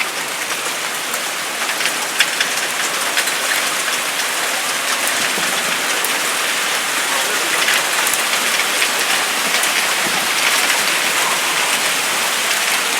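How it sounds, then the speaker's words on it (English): A dense mix of rain and hail falls outdoors in a sudden storm, making a loud, steady hiss with scattered sharper ticks of ice striking surfaces, and the sound stays constant throughout. "It's kind of rain-hail mix. There's more rain."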